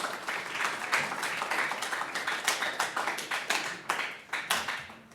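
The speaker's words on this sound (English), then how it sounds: "We should give him another round of applause." Audience applause following a humanities lecture by an artist and a philosopher at North Shore, a steady patter of clapping hands from a modest crowd that swells and dips over about five seconds, with no voices.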